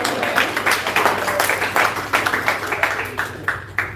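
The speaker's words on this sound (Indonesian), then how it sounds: "Tepuk tangan semuanya dulu." An audience at a religious sermon claps on request, a scattered patter of hand claps with uneven peaks that thins out toward the end, moderately loud and with no talk over it.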